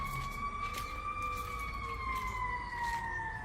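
A loud fire truck siren wails continuously in a neighborhood, its two steady tones gliding slowly downward over a noisy outdoor background.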